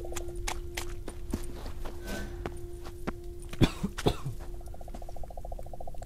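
A character in The Witcher 3 coughs a couple of sharp times while walking through toxic fumes, with footstep thuds and a steady game ambience around it.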